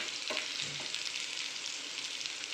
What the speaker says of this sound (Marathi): लसूण अद्रक मसाला पण टाकायचा आपल्याला छान परतून घ्यायचं मंद आचेवर